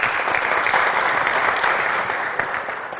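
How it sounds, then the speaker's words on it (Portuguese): Dense, sustained applause from a large audience at a formal address, a continuous even roar of many hands clapping with no speech on top. "Vocês estão aplaudindo porque ele estourou o tempo, né?"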